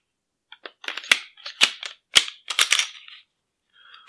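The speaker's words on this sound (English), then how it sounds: "Lock the slide to the rear." An FN 509 Tactical pistol handled up close, a string of sharp metallic clicks and clacks as the slide is worked and locked to the rear, in quiet surroundings.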